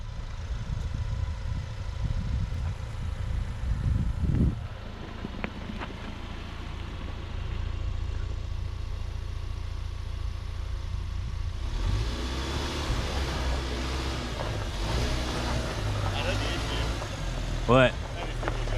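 Ford Ranger FX4 pickup crawling over loose dirt and a ditch, with a steady low engine rumble, a thump partway through, and rougher tire and gravel noise later on.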